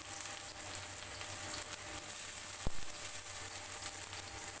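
Onions fry in a pan for Kolkata restaurant-style chowmein, giving a continuous even sizzling hiss with a single dull knock partway through and no talking.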